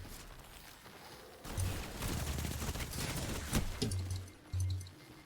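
Video game gunfire from a shooter with Hunter-class play: bursts of rapid shots and sharp individual cracks arrive in uneven clusters over low rumbling impacts, moderately loud with no voices.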